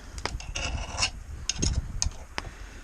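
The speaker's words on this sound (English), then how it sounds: "grab a knife and just peel off the excess" A knife scrapes and peels excess bread off a sandwich press while tailgate cooking, giving a few short, rasping scrapes and rubs at close range with no talk.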